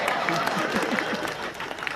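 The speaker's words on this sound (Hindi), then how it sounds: "इनके लिए तालियां आप बजाओ" Audience clapping at a Hindi kavi sammelan poetry gathering in Ambikapur, a dense steady patter of many hands sustained for the full two seconds, with voices murmuring underneath.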